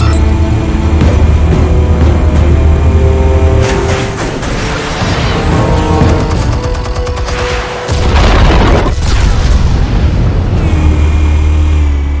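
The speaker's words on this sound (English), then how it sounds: "Explosives armed. Fire when ready." Explosives go off in a Batman episode, filling the scene with heavy, loud rumbling booms and a dense roar that surges, dips briefly, then swells again.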